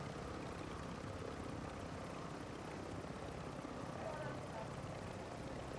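A Call of Duty helicopter drones in a steady, continuous rotor-and-engine rumble at low volume, unbroken from start to finish, with voices faintly mixed beneath it.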